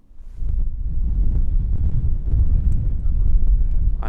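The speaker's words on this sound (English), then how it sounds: "if you can even hear me over the wind" Strong gusts buffet the microphone outdoors on the Llangattock escarpment in the Brecon area, making a loud, continuous low rumble that swells and then holds for several seconds.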